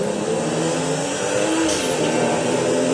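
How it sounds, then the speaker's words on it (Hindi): A car drifting in the video game GTA 5 roars with a sustained engine drone and tyre noise, loud and continuous, its pitch dipping briefly midway. "यहाँ से इधर से ड्रिफ्टिंग कर रहा है तुम्हारा भाई"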